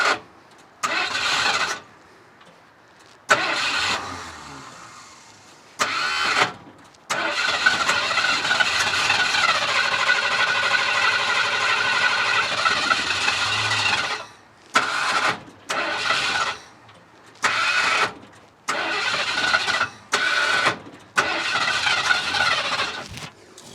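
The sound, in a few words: 1976 Ford F250 engine cranking, trying to start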